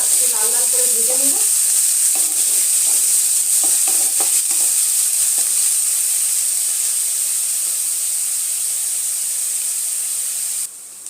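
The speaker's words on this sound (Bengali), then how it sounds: "পেঁয়াজটা হালকা একটু লাল লাল করে ভেজে নেব।" Chopped onions fry in a pan with a steady, close sizzle and hiss, punctuated by a few spatula scrapes and stirring clicks early on.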